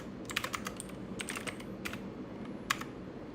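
Keys tapped on a computer keyboard while a Python language model is being coded, short bursts of quick clicks with pauses between them, close and fairly quiet over a steady room hiss.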